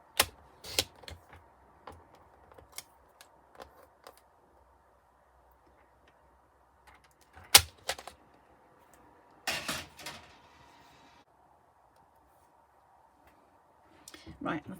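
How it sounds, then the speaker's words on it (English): Navy cardstock is trimmed in a paper trimmer, giving a scattering of sharp, close clicks and a brief scraping slide of the blade in an otherwise quiet room. "I'm just going to trim this a little bit in my trimmer."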